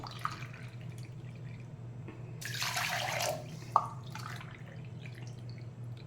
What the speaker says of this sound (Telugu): దీనికి శుభ్రంగా కడుక్కొని ఒకటికి 3 నీళ్ళు పోస్తాను